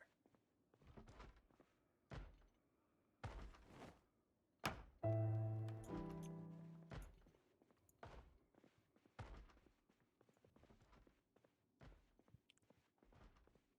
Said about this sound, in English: just because I hear that door sound